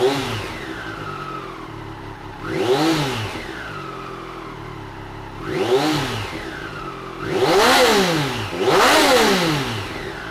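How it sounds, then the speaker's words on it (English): A 2020 Triumph Street Triple RS motorcycle idles close by, then blips its throttle in four sharp revs, each pitch climbing and falling back, the last two louder and nearer together. "I'll just start the bike up."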